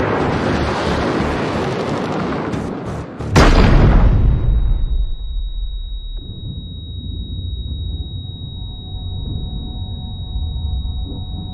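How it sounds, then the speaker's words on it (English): A tremendous blast aboard a wartime ship erupts after a roaring rush of noise, followed by a deep rumbling aftermath and a lingering high ringing tone. "There's a massive explosion"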